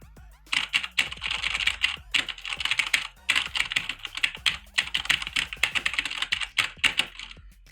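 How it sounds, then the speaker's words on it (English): Fast typing on a Corsair K70 RGB MK.2 mechanical keyboard produces crisp, dense key clatter in continuous bursts with brief gaps, close and clear. "it's a huge pleasure to be typing on this keyboard"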